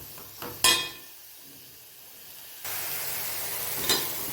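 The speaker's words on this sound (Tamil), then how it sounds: "இப்போ இந்த கொத்தமல்லி தலையை நமக்கு நல்லா ஃப்ரை பண்ணி எடுத்துக்கலாம்." Coriander stems fry in a pan for a morning tiffin, giving a steady soft sizzle and hiss, with a couple of sharper scraping or stirring bursts and a louder stretch of sizzling toward the end.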